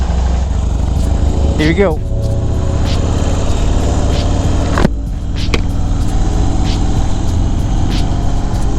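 Harley-Davidson Fat Bob motorcycle engine revving and pulling away, a loud close rumble with a rising rev sweep and a gear change, under brief talk.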